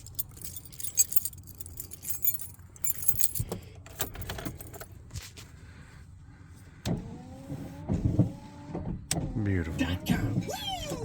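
Wipers swept by a new wiper motor on an 88-98 Chevy C/K 1500 pickup, a repeating whirring motor with rhythmic squeaking strokes of the blades across the glass, heard close over background rumble and clatter.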